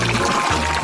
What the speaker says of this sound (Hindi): अच्छे से पानी डाला।